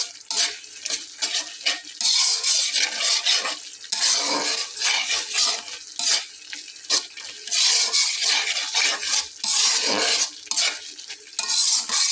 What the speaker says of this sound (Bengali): মশলাটাকে খুব ভালোভাবে কষিয়ে নিতে হবে যতক্ষণ না পর্যন্ত উপরে তেল ভেসে ওঠে